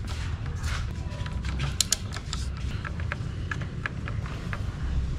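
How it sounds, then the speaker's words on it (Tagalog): A 10mm socket wrench on an extension loosens a cover bolt on a Raider 150 FI motorcycle, producing close ratcheting clicks and creaks in short bursts over a low rumbling background. "gamit lang tayo ng 10mm na socket wrench para maluwagan yung bolt"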